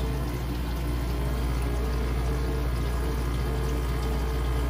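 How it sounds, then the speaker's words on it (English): A restaurant ice maker refills with water as it restarts its ice-making cycle, making a steady, loud, continuous rush of pouring water with no breaks and no voices. "Now we're going back into the ice making cycle."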